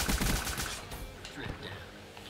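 A nail gun firing in the video game Call of Duty: Black Ops, loud rapid shots packed into the first second, then fading into a busy game mix with scattered clatter.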